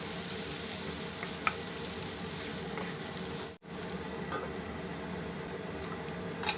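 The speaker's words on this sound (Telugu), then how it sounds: "ఒక హాఫ్ స్పూన్ జీరా పొడి వేసేసి బాగా కలుపుకొని ఒక నిమిషం పాటు మూత పెడదాం" Brinjal frying with coriander and cumin powders stirred in gives a steady, quiet sizzle, with a few soft ticks and a brief dropout midway, and no one talks.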